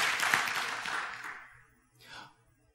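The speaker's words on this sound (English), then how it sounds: "You can clap if you want to." Brief audience applause at a live church-style talk event swells at once and then tapers off over about a second and a half, followed by a faint short murmur of voices.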